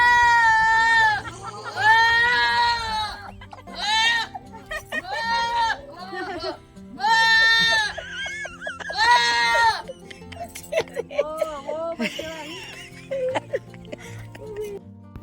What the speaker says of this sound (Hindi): और बकरियों की आवाज़ें सुन के सब पागल हो रहे थे हंस हंस के